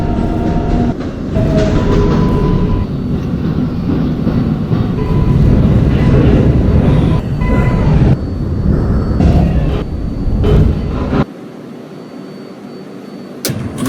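A Manhattan-bound 7 local subway train on the Flushing Line in the Roblox game, a loud continuous rumble and rattle of the running train with rhythmic clatter, easing quieter near the end.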